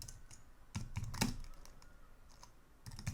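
Code being typed on a computer keyboard in VS Code: scattered keystrokes and a few quick clusters of clicks, close and fairly quiet, with gaps between bursts.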